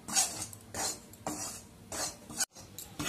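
Dry gram flour (besan) scraped and stirred with a spoon in a hot, ungreased kadhai, giving close, soft rasping strokes in a steady rhythm about twice a second, with one brief pause.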